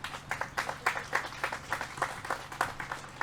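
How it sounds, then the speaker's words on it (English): Sparse audience at an outdoor ceremony opening a conservation restoration area clapping together, a loose stretch of distinct handclaps at moderate volume, heard alone without speech. "Please give a hand for our chair of the select board"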